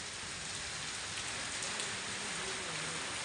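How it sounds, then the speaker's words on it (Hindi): Steady rain falls with a soft, even hiss, quiet and continuous, with no voices. "ये बारिश हो रही है आज।"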